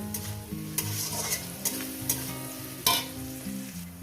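Onion fries in hot oil in a pan with a steady close sizzle, while a spoon stirs through it in periodic scraping strokes. No voices.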